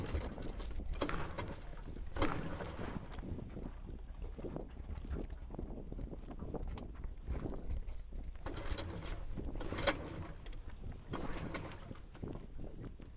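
A small 14-foot aluminum boat's outboard motor runs on choke, a steady low rumble mixed with wind buffeting and water noise throughout, with no talk.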